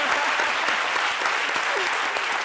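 Audience applause at a live midday show event, steady dense clapping filling the whole stretch, loud and close with no pauses.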